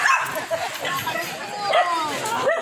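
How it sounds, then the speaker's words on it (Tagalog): Several dogs yip and bark in short, high bursts close by, mixed with whimpers and a person talking over them. "Yan, yung mga aso dito."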